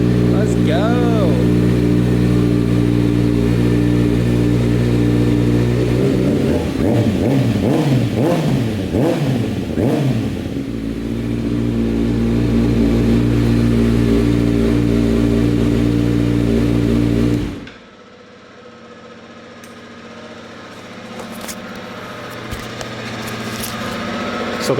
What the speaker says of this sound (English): So the bike starts.